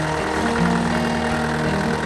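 Tractor engines run at a busy outdoor working day on a sunny field at Carrington, a steady, close, continuous idling rumble with a low hum and slight knock, no voices.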